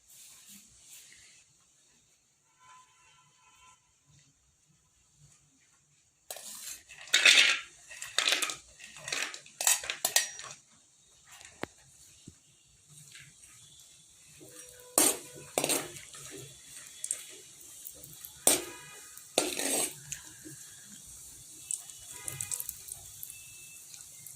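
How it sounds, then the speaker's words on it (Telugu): Cashews and raisins fry in ghee in a kadai as a spoon clatters and scrapes against the metal pan in irregular bursts over a soft, faint sizzle. "జీడిపప్పు కిస్మిస్ వేగించుకోవాలి."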